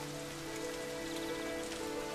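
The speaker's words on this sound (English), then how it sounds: "along comes the autumn rain" Autumn rain falling on an outdoor landscape garden, a steady, even patter of drops on surfaces that carries on without a break at moderate, soft loudness.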